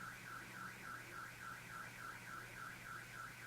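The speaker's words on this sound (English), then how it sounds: "What is that? A car alarm right now?" A car alarm wails in a steady repeating up-and-down siren pattern, fairly faint and distant, with no talking.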